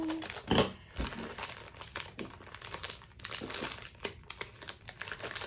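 Crinkling plastic rustles continuously as an earring is worked out of a plastic pouch, with sharp crackles and snaps throughout, close and fairly loud.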